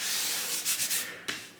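Sanding body filler on a 1970 big block Chevrolet Chevelle quarter panel, a steady close abrasive rasp with a few stroke surges and a sharp scuff near the end, no talk.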